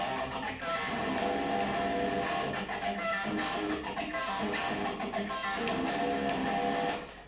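Distorted electric guitar plays the unusual intro riff of a death metal song, dense and continuous with choppy picked notes throughout, loud and close with no talking.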